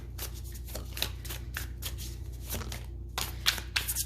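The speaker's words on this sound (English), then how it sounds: "I swear, 8 minutes of this is just me shuffling" Tarot cards being shuffled by hand, a steady run of quick riffling bursts and soft slaps repeating close up over a low background hum.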